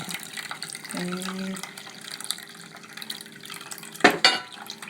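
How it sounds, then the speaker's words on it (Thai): Pennywort juice drips and trickles through a strainer with soft, uneven liquid patter, joined by a brief tonal clink and a sharper splash burst toward the end. "ให้มันหยดลงไปให้มันดีเค่ะ"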